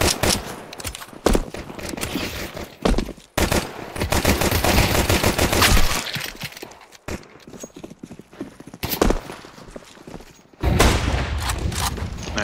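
Rapid bursts of gunfire from Counter-Strike 2 matchmaking, with sharp repeated shots and sputtering volleys clustered in several loud bursts and a few quieter gaps between them.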